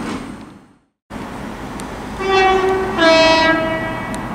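Two-tone horn of a pair of Class 465 electric trains at Sevenoaks station, two distinct sustained blasts in succession, loud and near, following a brief cut to silence.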